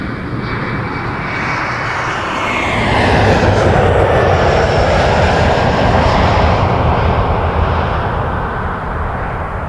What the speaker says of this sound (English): Embraer 175. Republic Airways flying for United Express this time.